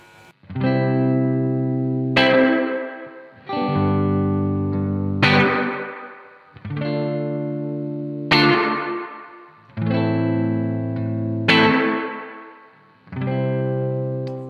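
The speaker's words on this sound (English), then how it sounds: "Let's turn the reverb all the way up." Electric guitar chords through a Blackstar St James tube amp with reverb turned fully up, strummed in a slow repeating pattern, each ringing out into a long, washy reverb tail that fills the gaps between strums.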